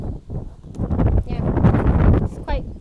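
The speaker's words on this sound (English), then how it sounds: "It's quite windy out here, but it's not bad." Gusty wind blows across the microphone outdoors, a loud, steady low rumble with rising and falling gusts throughout, and some faint rustling on top.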